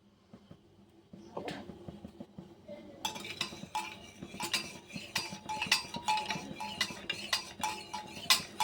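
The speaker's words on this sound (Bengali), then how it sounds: "ছেলেটা একটু চিনি হারিয়ে দিয়ে চামচ দিয়ে একটু ঘেটে দিতে হবে" A metal spoon stirs sugar into tea in a cup, clinking quickly and steadily against the sides for several seconds at close range. Some faint kitchen handling comes first, and no one speaks.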